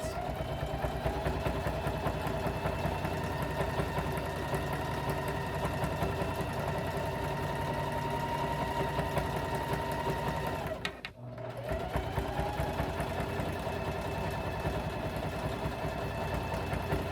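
A sewing machine stitches fabric strips for a jelly roll rug, running continuously with a fast, steady mechanical whir and rattle, pausing briefly once before resuming at the same pace.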